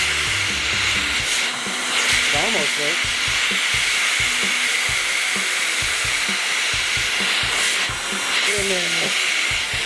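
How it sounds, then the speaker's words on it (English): Loud, steady vacuum cleaner roar, sucking fuzz off a stained wood patio furniture set, with intermittent scraping and knocking against the wood and someone talking briefly over it. "Now we're going with a vacuum."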